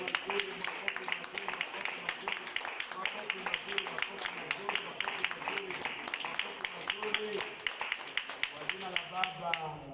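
A congregation at the Cathedral in Mombasa claps during a Sacred Heart of Jesus devotion, producing dense, steady clapping throughout with voices singing or speaking over it.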